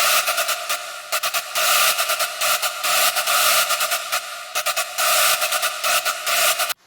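A bright, buzzy synth built in Serum and drenched in reverb plays choppy rhythmic stabs, loud and alone, with no voices.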